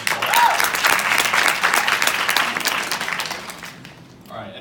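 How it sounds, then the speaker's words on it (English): Audience applause fills the room, a dense sustained clapping from a large crowd at a talk on entrepreneurship, steady and loud before tapering off near the end as a voice begins. "could we please give them another round of applause?"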